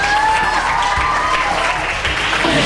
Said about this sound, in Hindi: इसी बात पे कराची के लिए तालियां बजाएं आप।